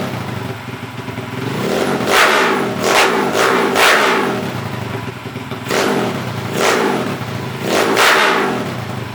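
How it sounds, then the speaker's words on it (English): A 212cc small engine revs up loudly in bursts after a valve adjustment and exhaust gasket replacement, rising and falling several times in close, repeated throttle blips. "I suppose I can give it a couple revs"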